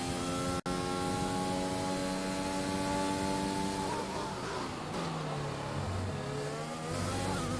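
An F1 car engine in the F1 2021 racing game revs hard through the gears, a loud continuous high whine rising in pitch, cut by a brief shift, then settling into a lower, wavering drone as it keeps accelerating.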